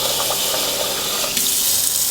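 Cold water runs steadily into teff batter for injera, a continuous close tap-like splashing and pouring that holds evenly throughout, with no talking.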